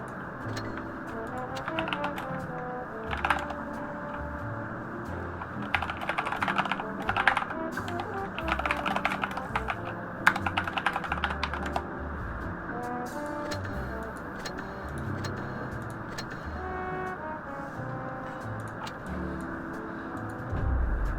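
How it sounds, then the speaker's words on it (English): Rapid typing on a computer keyboard during a live-streamed tank game, with irregular bursts of close key clicks over a steady low engine hum and faint game sounds. "I'm just gonna type GG to voice gunner."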